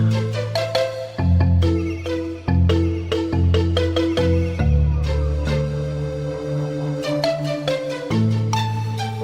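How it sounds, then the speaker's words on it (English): A mobile phone ringtone plays loudly and up close, a repeating melodic tune of bright tones that runs for several seconds with no talk over it. "That was the sound of my phone, guys."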